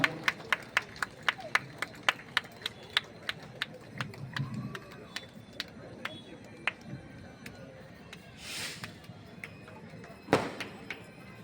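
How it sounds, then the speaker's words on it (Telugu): A church congregation at a consecration celebration clapping in a steady rhythm, sharp claps ringing out one after another in a reverberant hall, with faint background voices and a few louder knocks near the end. "అందరము చప్పట్లు పెడుతూ మన సంతోషాన్ని వ్యక్తపరుస్తూ దేవుని మేము పరుచుదాం"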